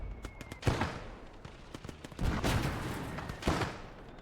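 Tank gunfire from a World War II battle in the game Gates of Hell: Ostfront, with a BT-7 shooting at a Panzer II: several sharp, booming shots and impacts arrive at irregular intervals, moderately loud.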